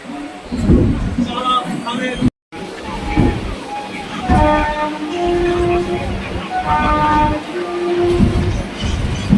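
A 12-coach Sealdah–Krishnanagar local train rumbles steadily as it departs while its horn sounds in sustained tones, with people talking over the clatter throughout.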